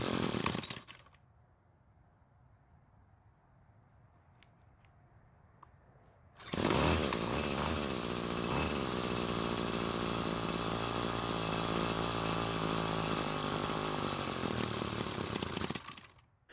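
A Bolens BL100 string trimmer's small two-stroke engine runs at half choke in a loud, steady buzzing drone for about ten seconds before cutting out, after a quieter stretch with a brief pull at the start.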